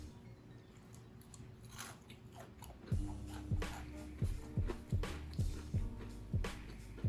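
Bites into a crispy homemade fried chicken sandwich on a buttery brioche bun with pickles, a run of sharp crunchy chews repeating steadily up close after a quieter stretch.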